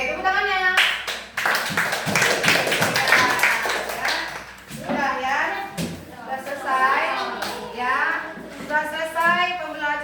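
Schoolchildren in a classroom clap together in a loud, sustained burst of rapid hand claps, with children's voices and a teacher talking over and after it.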